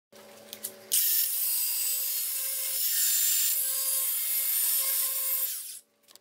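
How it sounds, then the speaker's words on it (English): A loud, steady high-pitched whine of a power drill boring holes for a 1960s Lincoln window motor swap, running continuously for several seconds, starting abruptly after a brief quieter rattle and cutting off at the end. "I'll drill the holes and we'll go into the next step."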